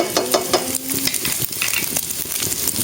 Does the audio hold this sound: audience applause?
no